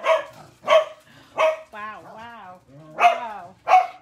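A dog gives a run of loud, sharp barks close by, five in about four seconds, with a long wavering, whining howl between them.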